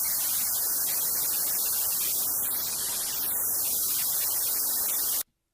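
Loud, steady white noise test signal playing through Pro Tools, hissing continuously while a filter sweeps up and down, carving a moving notch, before cutting off abruptly into silence.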